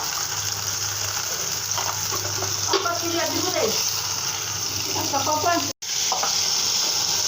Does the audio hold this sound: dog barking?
no